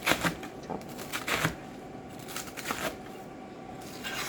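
Iceberg lettuce being chopped for a salad, a quick irregular run of close crisp knife strikes on a board, louder at the start and then lighter.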